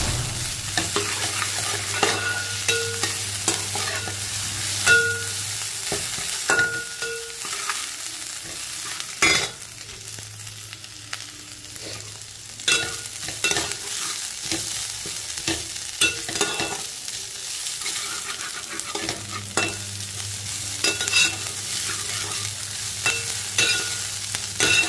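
Ginger garlic paste frying in oil for egg fried rice, a soft steady sizzle broken by frequent scraping and tapping of a stirring spoon against the pan, with no one speaking.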